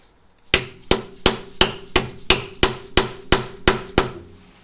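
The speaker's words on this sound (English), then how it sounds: "I typically use a scraper because they're thin. And I just want to try to tap that in to break that seal." A hammer taps a thin scraper wedged into the seal of a 2015 Ram rear differential pan: eleven sharp, evenly spaced metallic strikes, each ringing briefly, loud and close with no talk.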